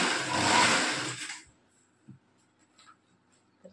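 A sewing machine stitching fertilizer sacks runs in a loud, whirring burst for about a second and a half, then stops, leaving faint scattered clicks and handling noises.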